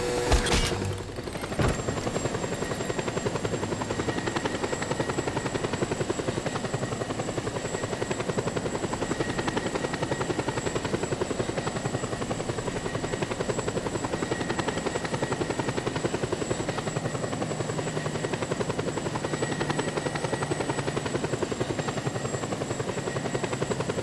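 A helicopter flies steadily in the Just Cause 2 video game, its rotor drone loud and continuous for the whole stretch after a brief sharp opening sound, with no talking.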